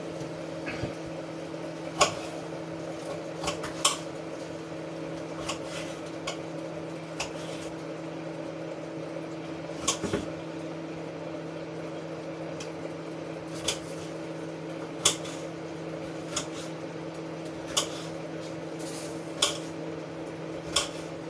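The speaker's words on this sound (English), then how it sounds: "You hear me chopping, I'm chopping up some peppers." Sparse knife taps chopping yellow peppers on a cutting board, irregular and fairly soft, over a steady low appliance hum in a quiet kitchen.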